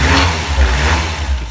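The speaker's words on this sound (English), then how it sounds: "Just doing an engine start, but listen to that." A Ford RS with its original exhaust starts and revs, a loud, close, steady mid-pitched engine note with a couple of slight swells in throttle and nothing else heard.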